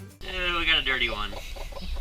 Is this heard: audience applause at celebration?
no